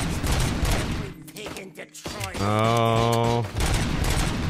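Burst of rapid gunfire from the Robocop: Rogue City video game, loud and close, with a short exclamation from a player over it.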